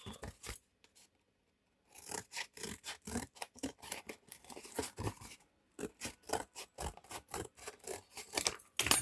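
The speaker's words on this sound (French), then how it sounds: "Donc je découpe ici pour pas qu'il y ait trop de morceaux qui vont rien donner du tout." Scissors snipping paper scraps for handmade stamps, a quick run of crisp close cuts, a pause, then longer bursts of rhythmic snips and rustling paper, fairly quiet.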